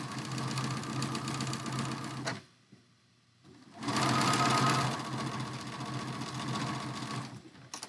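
A sewing machine stitches across quilt fabric in two rapid mechanical runs with a short pause between them, close and steady, with no voices.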